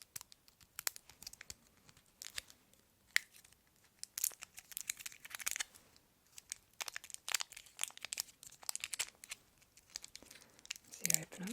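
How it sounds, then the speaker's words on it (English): A foil skincare packet being handled and torn open up close, with quiet crinkling, crackling and tearing sounds in irregular bursts, with soft speech. "typically how I would use one of these is I would open up the foil"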